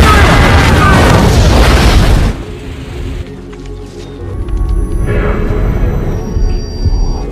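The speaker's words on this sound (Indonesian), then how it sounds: "Tiba-tiba saja bom meledak." A loud, roaring blast fills the first two seconds, then cuts off into a quieter rumbling aftermath with faint debris and scattered noises.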